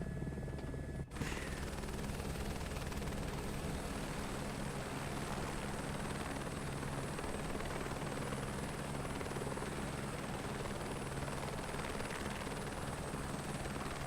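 A helicopter-like aircraft in Microsoft Flight Simulator 2024 flies at night, its engine and rotor drone steady and loud, filling the whole stretch without pause after a brief click at the start.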